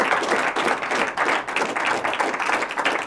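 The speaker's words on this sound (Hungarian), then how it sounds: "Úgyhogy egy tapsot szerintem." Applause from a film club audience welcoming a guest cinematographer, a brief burst of many hands clapping in an uneven patter at moderate volume, no talk.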